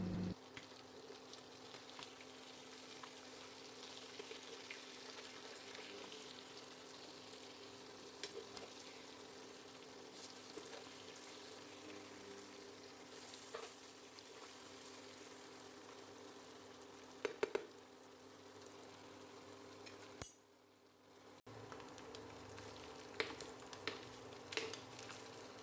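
Anchovies fry in coconut oil with curry leaves in a pan, giving a soft, steady sizzling hiss that runs on alone with a few brief louder crackles and one short pause.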